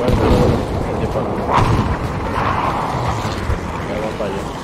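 Gunfire and explosions in the video game Battlefield V, a dense wash of distant booms and shots with a couple of heavier blasts, heard under players talking.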